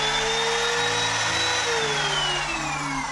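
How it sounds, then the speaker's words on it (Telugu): A diesel machine runs steadily and loudly throughout, a continuous droning hum with a shifting whine layered above the engine rumble and no pauses or talk. "డీజిల్ మిషన్ చెక్ చేద్దాం"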